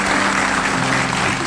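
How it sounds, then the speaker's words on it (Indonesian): Studio audience applause on an Indonesian television talk show, a dense, even wash of clapping held at one loud level for the whole short span. "kita kasih tepuk tangan dulu kalau gitu buat mereka semuanya"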